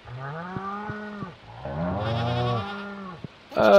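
Cows from the farming video game Stardew Valley moo in a few long, drawn-out calls, close and clear, with a brief sharper sound at the very end.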